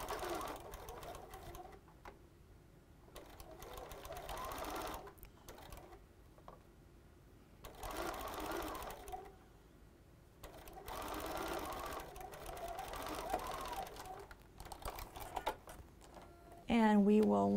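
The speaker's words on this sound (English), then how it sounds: "let's go sew a standard 1/4-inch seam." Sewing machine stitching a standard quarter-inch seam on a quilt-as-you-go mug mat, running in several steady bursts with short pauses between, fairly close, with a louder stretch near the end.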